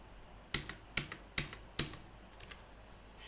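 A computer keyboard key, backspace, is tapped four times in an even rhythm, each a sharp close click with a fainter echo tap, quiet and alone.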